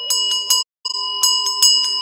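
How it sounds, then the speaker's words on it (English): A small bell rings in a few bright, clear strikes with sustained metallic tones, close and loud, with a short gap of silence between rings. "We need a little bell."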